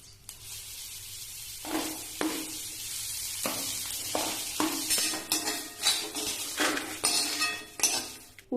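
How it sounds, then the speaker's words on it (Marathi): Dry coconut, ginger, garlic, onion and chilli roasting in a pan for a spicy clam tava masala, with repeated scraping and clinking of a spoon against the pan over a faint sizzle. "सुकं खोबरं, आलं, लसूण, कांदा, मिरची हे मी भाजून घेते."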